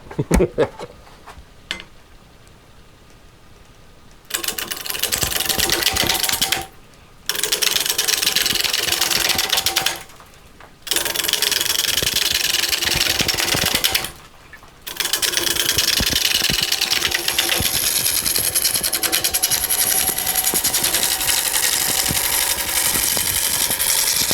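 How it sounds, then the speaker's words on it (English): Wood lathe turning a large stump blank with a heavy roughing gouge, long loud roaring cutting passes broken by brief pauses, with a voice speaking faintly at the start. "And I'm using my very heaviest, dutiest roughing gouge."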